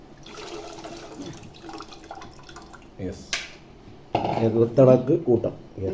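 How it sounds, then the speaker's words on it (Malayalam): The remaining water is poured into a pot of spicy mackerel curry, giving a loud gushing splash that rises in bursts toward the end, with metal pot clinks and someone speaking over it. "ബാക്കി വെള്ളം കൂടി ഒഴിച്ച് നമുക്കൊന്ന് നല്ല തിളച്ച് വരുന്ന"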